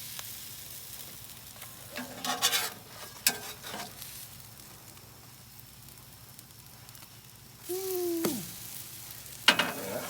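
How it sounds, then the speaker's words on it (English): French toast sizzles quietly on a Blackstone griddle, and a spatula clatters and scrapes in several brief bursts as the slices are flipped. A longer scrape and a sharp tap come near the end. "Let's do the first flip on this French toast."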